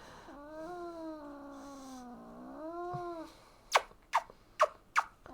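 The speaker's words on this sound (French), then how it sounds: "Ah, le minou, il cause en plus." A pet cat at home lets out a long, drawn-out, wavering meow close by, then a short pause followed by four quick, sharp chirping meows in a steady rhythm.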